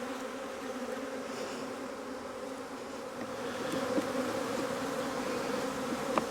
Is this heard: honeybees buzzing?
yes